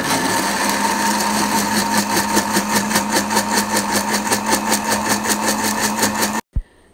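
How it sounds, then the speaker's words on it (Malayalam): Mixer grinder running steadily while blending pomegranate juice, a loud continuous whirring drone with a fast pulsing texture that cuts off abruptly near the end. "ഇനി നമുക്ക് അടച്ചു വെച്ച് ഒന്ന് ഗ്രൈൻഡ് ചെയ്ത് കൊടുക്കാം."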